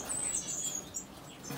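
Pet birds chirp in a bird room, a steady stream of high, thin tweets and calls close by, continuing without pause over a soft background hiss.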